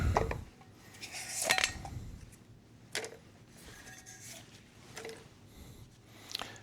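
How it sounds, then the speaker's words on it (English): Plastic lid being pulled off an RTIC cup, a handful of sharp clicks and clattering knocks spread over several seconds, close up and fairly quiet, with brief handling noise between them. "I'm gonna go ahead and take the lid off of this so I don't get this stuff on the plastic lid"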